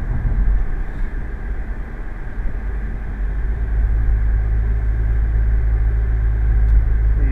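An Audi B7 2.0 turbo FSI engine runs close by with a steady, throaty low drone that grows slightly louder and fuller toward the end.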